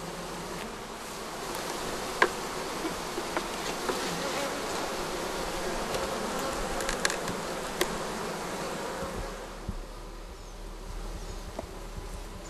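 A honeybee colony buzzing steadily during comb transfer at an apiary, a dense continuous hum with a few bees passing close to the microphone and occasional faint knocks.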